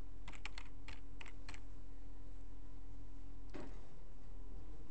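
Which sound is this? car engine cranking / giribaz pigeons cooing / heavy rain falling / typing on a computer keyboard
typing on a computer keyboard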